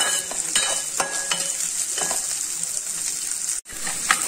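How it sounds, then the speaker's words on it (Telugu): Ingredients for sweet corn soup fry in a pan while a spoon stirs them, giving a close, steady sizzle broken by scraping clicks and taps of the utensil against the pan. "నిమిషం బాగా అట్లా వేగనిద్దాము."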